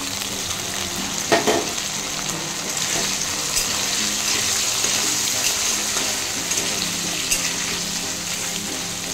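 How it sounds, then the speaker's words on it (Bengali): Potatoes sizzle and crackle in a hot pan, a steady loud frying hiss with occasional stirring scrapes. "আলুগুলো একটু ভাজা হয়ে গিয়েছে, এরপর এর মধ্যে লঙ্কা আর পেঁয়াজ দিয়ে দেব।"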